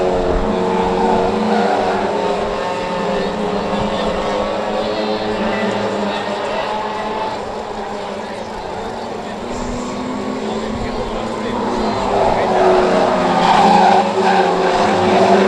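Pro stock cars racing on the oval at Cowdenbeath Racewall, with a loud continuous roar of several engines and tyre noise, while a commentator talks over the racing.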